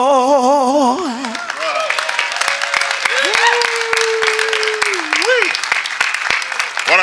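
A congregation at a celebration-of-life memorial service claps after a song, sharp hand claps scattered steadily through the clip beneath a sung, sustained voice that slides and holds a long note.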